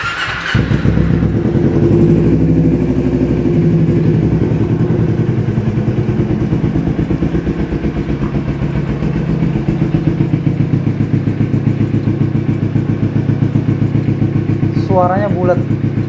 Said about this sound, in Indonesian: kita nyalain motornya, suaranya kayak gimana.